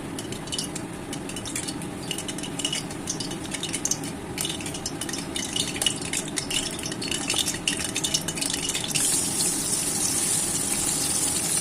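Small puti fish frying in a pan, a steady close hiss and sizzle with occasional utensil scrapes and clinks of stirring, continuous and fairly loud with no talking.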